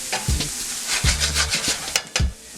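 Vegetables for a Cajun-style red sauce stirred in a pan over medium-high heat, a steady soft sizzle broken by repeated low scraping thumps of the spoon against the pan, close and continuous with no talk.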